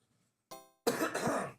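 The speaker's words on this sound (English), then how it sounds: "Let me clear my throat." A harsh throat clearing close to the mic, a short rasp followed by a louder, longer gravelly clearing, with no talking.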